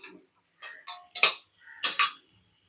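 A spoon scrapes and taps against a pan while onions and green chillies are stirred, a few sharp clinks in short bursts separated by silence, close and clear.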